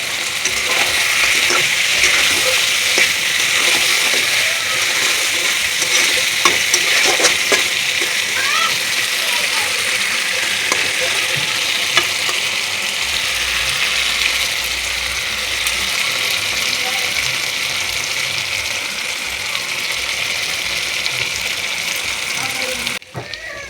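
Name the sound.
fried potatoes added to chicken curry, sizzling and stirring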